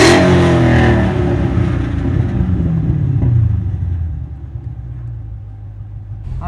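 A Dodge Challenger with a manual transmission revs hard, a loud, deep rumble that blips up and then falls back to a lower throbbing idle.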